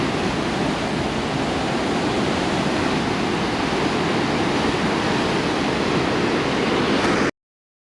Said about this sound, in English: This is pretty big waves here, and it's calm today.